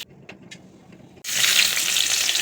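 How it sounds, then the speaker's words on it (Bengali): Carrots and potatoes with cumin and garlic hit hot oil in a pan, a sudden loud sizzle that bursts in after a quiet moment of faint kitchen clinks and then keeps hissing steadily. "গাজর আর আলুটাকে ভেজে নেবো মাংসের জন্য"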